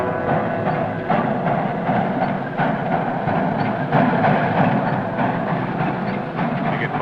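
Train engine rolling along the track, a dense continuous rumble and rattle of wheels and cars, loud and close throughout with no pauses.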